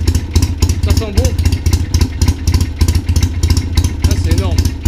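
A Mobylette moped's small two-horsepower engine putters in a fast, even pulsing rhythm close by, with people talking over it.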